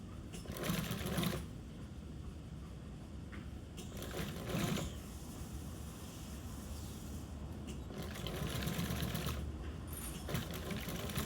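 A sewing machine stitches binding onto thick marine canvas, a continuous fast mechanical whirring and clatter that swells in brief louder bursts, steady and fairly quiet in the room, with no talking.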